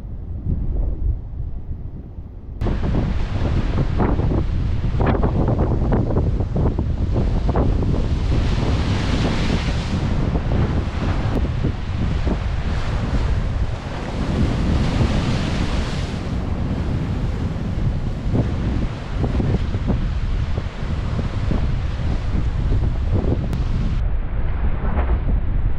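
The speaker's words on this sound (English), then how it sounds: "The wind's come up a bit." Ocean surf and gusty wind on the West Australian coast, a loud roaring wash of breaking waves with heavy wind buffeting the microphone, starting after a brief quieter moment and continuing steadily throughout with no talking.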